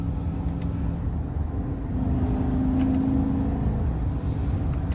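A 2023 Chevrolet Silverado 1500 RST with the 5.3 engine, in low mode, gives a steady low engine drone heard from inside the cab, with the revs rising slightly in the middle and no talk.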